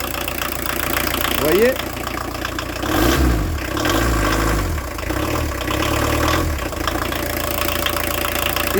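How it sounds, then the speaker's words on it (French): A VW T3 diesel engine idles roughly, its injection pump timing lacking advance, with an uneven, lumpy low-frequency throb and irregular pulses close by, and someone speaking briefly over it. "c'est le symptôme du moteur qui manque de l'avance"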